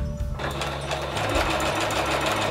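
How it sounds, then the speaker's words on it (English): A sewing machine runs a reverse stitch to lock an open back seam on a small doll garment, humming steadily and close from start to finish with no talking. "we are going to lock our seam with a reverse stitch"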